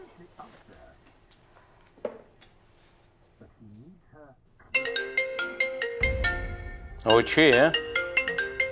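A telephone ringtone starts up midway as a loud, repeating electronic melody, following quieter sounds and a brief spoken voice, and keeps ringing to the end.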